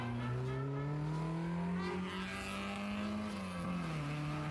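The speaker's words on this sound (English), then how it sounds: "escaping from doing the shopping is Alan Sydenham's Nissan Micra" Nissan Micra driving the Wiscombe hill climb course, its engine droning steadily and close with rising and falling pitch as it accelerates and shifts, loud throughout with tyre noise.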